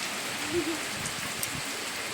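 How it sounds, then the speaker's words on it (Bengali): Rain falls steadily in a dense, even hiss of drops on surfaces, close and continuous with no clear voices. "এখন মজাতে এখন দেখছে বৃষ্টি, জল পড়ছে।"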